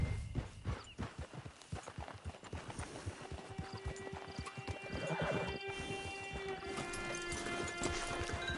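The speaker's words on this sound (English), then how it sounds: "Get your horse." A horse near a camp clip-clops steadily on the ground with rhythmic hoof falls, while a whinny and sustained tonal sounds rise over the second half at moderate loudness.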